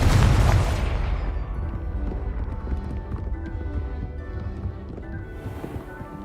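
A heavy boom from the Confringo fire spell in Hogwarts Legacy opens loud and close, then fades into steady galloping hoofbeats and game ambience.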